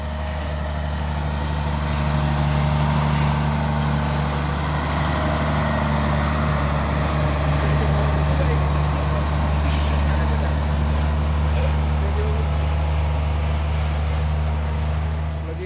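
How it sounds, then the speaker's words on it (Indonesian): A Fuso Super Great truck engine drones steadily with a deep, loud rumble, straining as it climbs a hill, with a low mechanical hum throughout. "Satu nih truk Fuso super grade ini"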